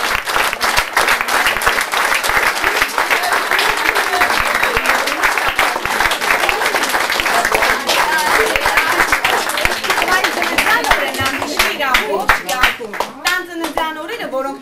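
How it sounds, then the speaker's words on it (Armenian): A crowd applauds a 13th birthday at an Armenian school gathering in Belgium in 2006, with dense, sustained clapping that fills the room and tapers slightly near the end, with voices mixed in. "Ես ուզում եմ, որ այսօրվա օրը այս բոլոր ծափահարությունները շնորհավորեն նրա 13"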